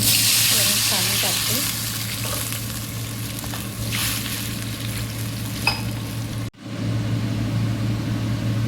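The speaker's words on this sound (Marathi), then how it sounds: "इकडे कढईमध्ये तूप टाकले, थोडासा जिरा टाकून घेते" Steady hiss of cumin sizzling in hot ghee in a wok, with a constant low hum underneath and a few faint clinks.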